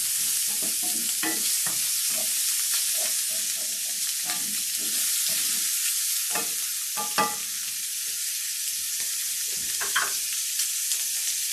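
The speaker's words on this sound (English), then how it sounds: "I'm going to be adding this in with my potatoes and mixing around for my filling." Pierogi potato filling fries in a pan under a constant soft sizzle, with repeated scraping and clattering bursts as a utensil stirs it, close and without talk.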